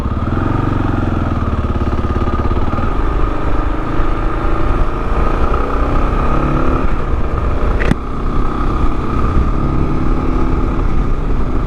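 A 2022 Kawasaki KLR650 single-cylinder motorcycle cruising along a highway, its engine droning loudly and steadily amid wind rush, with a brief dip in sound near the end.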